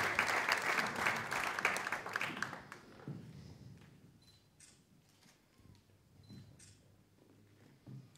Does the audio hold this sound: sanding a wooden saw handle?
no